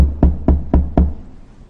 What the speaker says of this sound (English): and knocked his door.